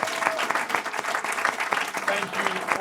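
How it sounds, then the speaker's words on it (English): An audience in Washington, D.C. gives a panel at a poll launch event a round of applause, a dense steady clatter of many hands with a few voices mixed in. "give our panel a round of applause"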